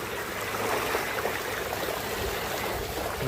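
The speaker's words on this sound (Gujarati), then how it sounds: "કેટલું પાણી આવે" Rushing floodwater after a downpour in Nandotra, where an overflowing lake sends water surging along; a steady, loud broadband rush continues throughout with no talk over it.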